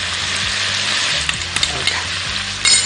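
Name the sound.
frying finely chopped cabbage and capsicum in oil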